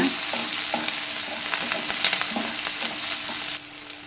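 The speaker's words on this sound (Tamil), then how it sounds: "இப்போ இதோட கொஞ்சமாக மல்லித்தலையும் புதினாவும் போட்டுக்கலாம் இந்த ஆயிலில் வதங்கும்போது வாசனை நல்லா இருக்குங்க" Coriander and mint leaves fry in hot oil with a loud, continuous close-up sizzle and crackle, with light stirring scrapes throughout before the sizzle drops slightly near the end.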